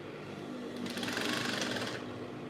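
Sewing machine stitching gown fabric, a quiet close mechanical hum that rises into a faster rhythmic needle chatter for about a second, then eases back down.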